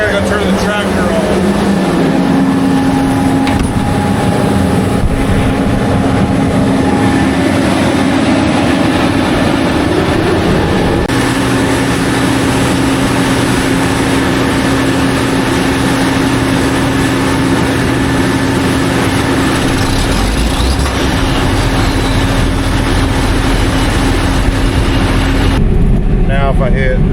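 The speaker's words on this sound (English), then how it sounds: "Now I gotta go turn the tractor on." A tractor engine runs steadily through a cotton harvest, a loud continuous low rumble with a droning hum and mechanical rattle, nearby and constant throughout.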